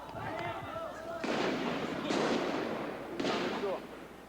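Gunshots ring out during the 1988 CSN steelworkers' strike clashes in Volta Redonda, with military police and army in the streets: three sharp broadband volleys over a steady background, with a voice underneath.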